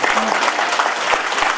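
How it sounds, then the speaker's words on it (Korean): A crowd at a Korean political town-hall event applauds. The clapping is brief, dense and steady, a loud wash of many hands throughout. "네, 큰 박수 주십시오."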